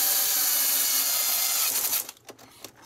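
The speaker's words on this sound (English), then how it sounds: "I think my drill's going a bit flat" A cordless drill, used while tightening parts during an Xbox repair, whirs steadily and close up for about two seconds, then stops with a few short clicks and taps.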